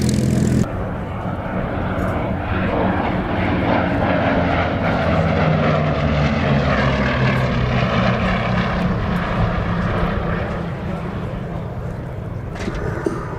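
A Bristol Blenheim's propeller engines drone at Duxford, a loud, sustained, throaty roar with shifting pitch as the twin-engine aircraft passes, continuing for over ten seconds.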